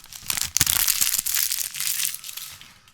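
A sealed deck of playing cards is torn open, its wrapper crinkling and crackling loudly and continuously at close range, with a sharp snap partway through and no talk.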